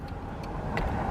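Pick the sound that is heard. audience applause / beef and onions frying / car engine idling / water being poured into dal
car engine idling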